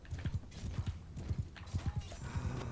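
A horse gallops in the video game Mount & Blade Bannerlord, with quick rhythmic hoofbeat thuds in steady groups, moderately loud and close, with faint mechanical creaks behind.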